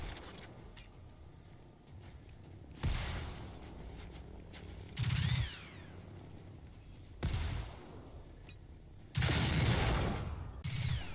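Explosive ammunition firing in the video game Generation Zero, heard as four loud separate bursts of booming gunfire spaced a couple of seconds apart over a low, quiet game ambience.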